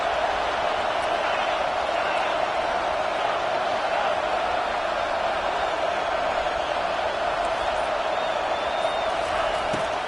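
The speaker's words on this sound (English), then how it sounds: "This crowd bringing the energy and noise early." A large stadium crowd roars continuously, a dense wash of cheering and noise that holds steady throughout.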